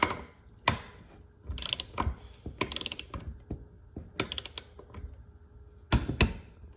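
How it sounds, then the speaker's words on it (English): A ratcheting torque wrench tightening head studs on a Motovox engine build, with short bursts of rapid ratchet clicks repeated several times, close and crisp, without talk. "now that we've torqued all our head studs to 20 foot-pounds"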